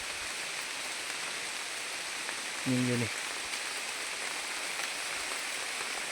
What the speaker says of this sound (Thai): ฝนบ่เซาเลยพี่น้อง